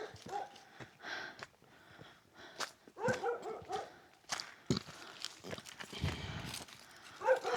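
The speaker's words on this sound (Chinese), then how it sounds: "狗吠的聲音越來越近了。" Dogs bark intermittently near a remote mountain home, faint and somewhat distant, mixed with footsteps and rustling along a rain-damaged hillside path.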